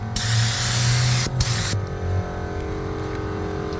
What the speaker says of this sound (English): Don't need to be too accurate when you're spraying it like this, because it does fan out quite nicely to give you that texture.